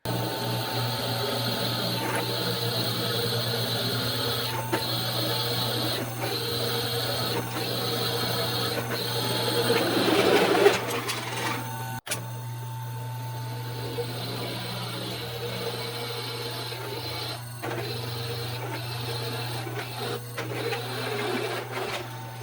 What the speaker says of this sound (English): So this is a cobalt steel 1/2-inch drill bit.